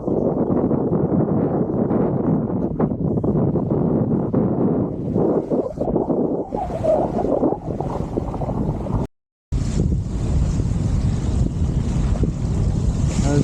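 Strong 15 to 16 knot wind roars continuously across a microphone aboard a sailing boat heading upwind off the south coast, with water rushing beneath, loud and close, broken once by a brief dropout.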